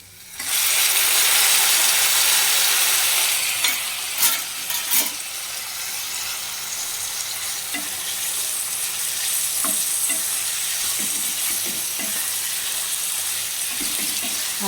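Chopped tomatoes go into a pan of frying onions, raising a loud, steady sizzle close by with scattered scraping stirs and clinks of a utensil against the pan throughout, and no voices.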